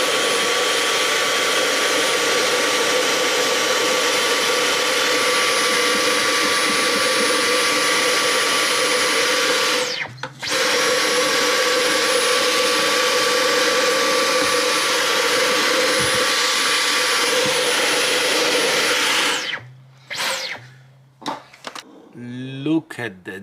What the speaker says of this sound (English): For this task, I borrowed my wife's Hoover.